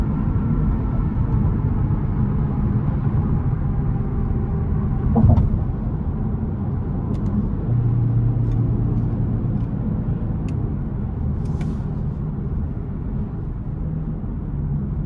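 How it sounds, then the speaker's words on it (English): Engine sound from a Kia Stinger 2.5T four-cylinder, piped in through the cabin speakers, makes a steady low rumble that holds throughout, with a brief swell in the middle and faint clicks above it. "there is some sound being piped in through the speakers for the 4-cylinder"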